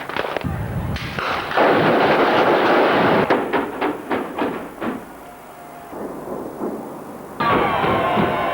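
A building demolition blast goes off, with a loud rumbling roar followed by a rapid series of sharp cracking bangs, then a settling crash of debris and a renewed loud burst near the end.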